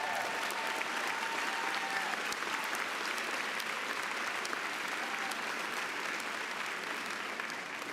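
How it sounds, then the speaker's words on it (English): Sustained applause from a large crowd at a college graduation ceremony fills the space, dense and steady throughout with no pause. "Now you clap for that."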